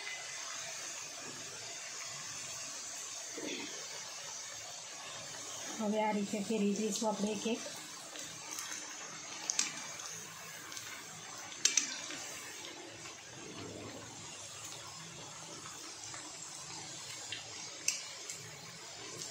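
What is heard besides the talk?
chakri (rice flour snack) frying in oil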